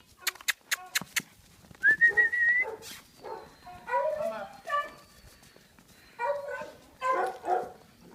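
Dogs at a dog camp bark in short sharp bursts near the start, followed by whines, yelps and vocal noises, with people talking over them.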